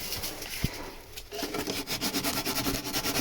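Steady rhythmic rasping of sanding the underside of a boat deck, close by, with quick repeated back-and-forth strokes and a couple of light knocks.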